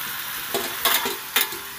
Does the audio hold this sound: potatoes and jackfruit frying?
yes